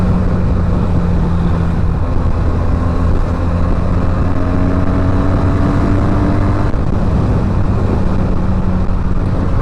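A Benelli 300i motorcycle's engine and exhaust drone loudly and continuously while riding, with engine tones sliding as revs shift and steady wind rush underneath.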